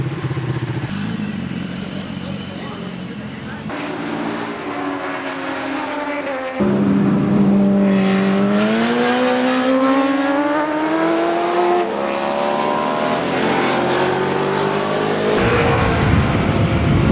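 Sport superbikes from a 2015 six-way track shootout race past at Laguna Seca, loud engines revving and shifting with rising and falling pitch as bikes pass close and pull away continuously.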